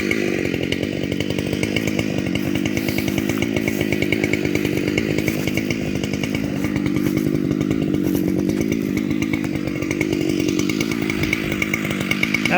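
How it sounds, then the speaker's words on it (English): A Husqvarna chainsaw, a 572XP or 585 fitted with a Forester chain, cuts through a tree in the woods in early spring, the engine roaring close and steady under load the whole time, with no talk. "I'm going to take a little more off the hinge,"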